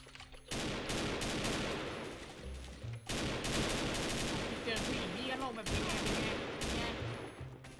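Loud rifle fire from an old-style classic rifle in the shooting game XSHOT, repeated sharp gunshots in bursts with short gaps, up close and dominating throughout, mixed with game effects.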